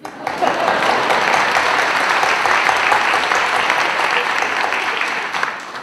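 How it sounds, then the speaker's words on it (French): An audience applauds at a French one-man comedy show, a dense, steady wash of clapping from a full room that fills the whole stretch without pause. "On t'applaudit."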